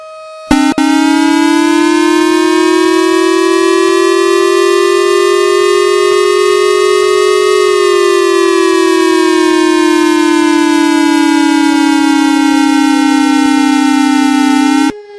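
Emergency Alert System attention tones, a loud steady dual-tone alarm with rich harmonics that holds constant for about fifteen seconds, its pitch gliding slightly downward near the end before cutting off abruptly, with no voices over it.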